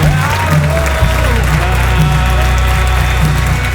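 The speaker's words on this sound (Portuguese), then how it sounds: "eu queria que você desse a sua melhor salva de palmas ao Senhor" Church congregation applauding the Lord, loud clapping layered over sustained organ or keyboard chords and music, a continuous festive wash with voices mixed in.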